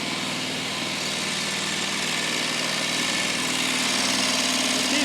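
Small engine on a riding machine idles steadily after a choked start at about half throttle, a continuous close rumble that swells slightly louder toward the end.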